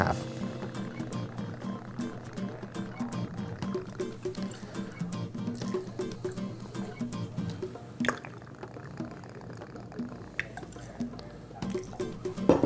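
Rum poured into a mojito glass makes a close, steady trickle of liquid with scattered drips and a couple of sharper clinks near the end.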